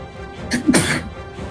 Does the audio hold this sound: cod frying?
no